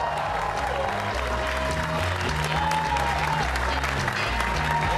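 A comedy club crowd applauds comedian Monroe Martin, sustained and steady throughout, with music playing underneath the clapping.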